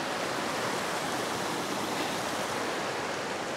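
A small mountain stream in Dovrefjell runs steadily and close by, an even, unbroken hiss of rushing water with no voices or other sounds.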